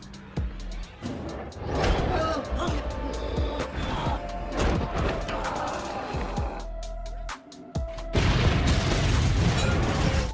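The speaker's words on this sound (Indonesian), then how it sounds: "Seketika itu pun dia langsung meledakkan tempat tersebut." Explosion in the 1999 film End of Days, set off by a possessed man inside a restroom: deep booms and sharp bursts crowd a dense, loud soundtrack, with a brief drop before a heavier rumbling blast near the end.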